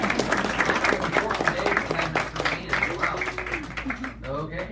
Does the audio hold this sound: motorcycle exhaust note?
no